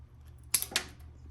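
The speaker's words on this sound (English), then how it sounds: "The 2mm body is actually pretty tough to cut through with scissors." Scissors cut through a tough 2mm RC car body shell for an Arrma Limitless GT, making two sharp, close crunching snips in quick succession against a quiet background.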